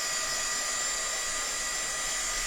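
A heat tool blows a steady, loud broadband whoosh while drying paint on an MDF plaque, continuous and close with no breaks and no talking.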